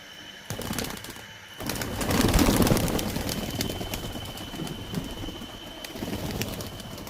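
Pigeons in a loft of Laldum and Kaldum breeds coo softly and continuously, with rustling and fluttering close by and no talk.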